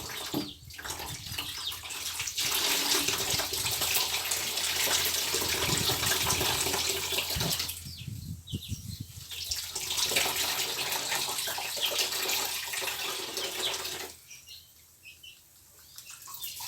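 Water poured to rinse the last of a neem mixture, a steady broadband splash running almost continuously with brief gaps, fairly close, with faint bird calls in the background.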